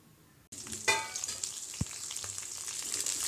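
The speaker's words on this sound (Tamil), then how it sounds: "இதையெல்லாம் ஒன்றா போட்டு வறுத்து எடுக்கலாம்" Coconut, mint, coriander, dal, ginger and dried red chillies hit hot oil for a South Indian dal chutney, a sudden close sizzle that keeps going as a steady crackling fry with a knock or two.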